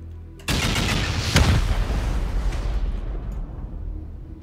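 Rockets slamming into an armored wall in a base-raiding survival game, a sudden loud burst of explosions with a heavy peak and then rumbling, crackling blasts that fade away.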